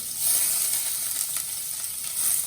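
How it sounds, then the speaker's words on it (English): Diced yellow and red peppers sizzle in vegetable oil in a pan, a steady bright hiss close by with small swells as they settle. "to the pan I am going to add some peppers, diced yellow, diced red peppers"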